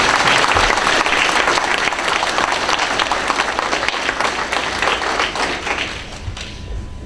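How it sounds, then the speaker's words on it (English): An audience at a ceremonial entertainment show honoring those who served gives a sustained round of applause, dense and loud clapping that thins and fades near the end. "Can you join me in another round of applause for Mr. Weiss?"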